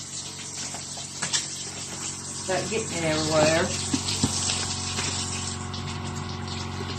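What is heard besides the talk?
tap water running while washing a raw chicken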